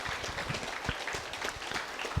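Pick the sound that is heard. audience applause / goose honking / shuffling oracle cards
audience applause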